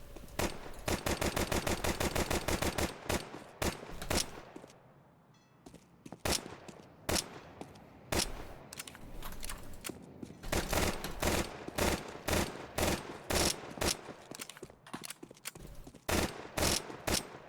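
Automatic gunfire in Counter-Strike 2 comes as sharp, loud bursts of rapid shots, with a long sustained spray at first, a short lull, then a steady string of single shots and quick bursts.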